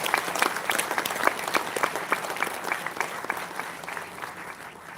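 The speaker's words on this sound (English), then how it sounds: "Can we please have a warm round of applause" Applause greets a guest at a book launch, with distinct individual claps from a modest audience forming a moderately loud, uneven patter that gradually fades.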